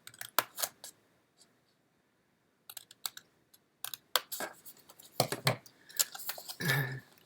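Scissors cut paper for a pop-up card in short crisp snips and clicks, close and fairly quiet, grouped in irregular bursts with pauses between them and a rustle of paper toward the end.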